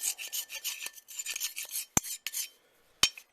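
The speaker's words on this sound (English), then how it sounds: "Just give it a quick scrape. And scrape the sides as well." A metal scraper rasping out ash and built-up cake from inside a pellet stove, repeated close scraping strokes followed by a few sharp knocks against the metal as the work stops.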